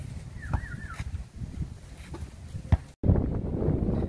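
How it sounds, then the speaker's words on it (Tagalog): Strong wind at sea buffets the microphone with a low rumbling roar, softer at first and then sharply louder and more constant after a brief cut, with a faint bird call early on. "Malaki yung hangin, tsaka malakas."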